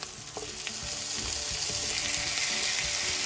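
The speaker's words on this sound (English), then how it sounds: "let them saute well till they are nice and soft" Onions and tomatoes sautéing in a pan for a Goan prawn chilli fry, giving a loud, continuous close sizzle with scattered stirring clicks and pops, no talking.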